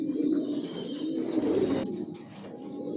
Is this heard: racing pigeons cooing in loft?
yes